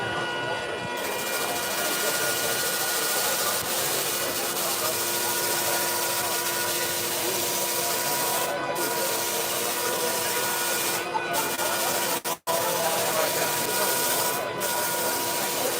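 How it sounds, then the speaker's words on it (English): A power sander shapes a piece of wood, giving a steady, loud grinding whir that continues without a break, close by, with one brief dropout near the end. "so just use the sander"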